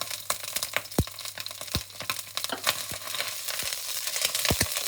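Garlic sizzles and crackles as it fries in hot oil in a wok for char kway teow, with repeated scraping stirs and sharp metallic knocks of the spatula cutting through a constant close frying hiss.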